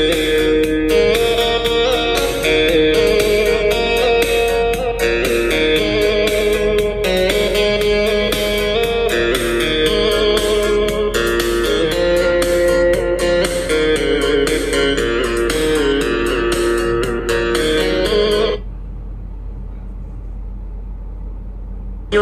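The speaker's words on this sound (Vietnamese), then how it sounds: "em mở nhạc cho cô chú anh chị xem luôn nè" Music plays loudly through the built-in speakers of an iPad Pro tablet, a dense steady stream of melody and beat for about eighteen seconds before cutting off to near silence.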